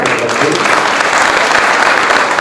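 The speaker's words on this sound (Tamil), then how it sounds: "உங்களுடைய பலத்த கரகோசம்" Loud, dense applause from a temple festival audience, thanking nadaswaram musicians, fills the whole moment as a steady wash of clapping.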